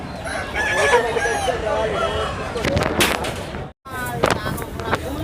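Roosters crowing and hens clucking at a rural country chicken market in Andhra Pradesh, several birds calling close by amid market bustle and occasional voices.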